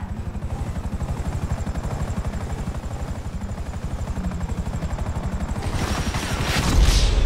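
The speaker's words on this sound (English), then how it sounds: "Chopper!" Helicopter in Grand Theft Auto V, its rotor chop beating in a steady rapid rhythm, loud and close, swelling toward the end.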